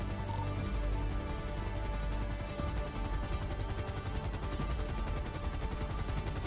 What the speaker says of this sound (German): Die Schüsse kamen östlich von uns.